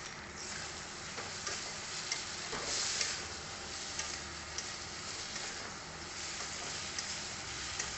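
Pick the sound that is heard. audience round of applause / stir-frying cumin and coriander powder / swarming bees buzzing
stir-frying cumin and coriander powder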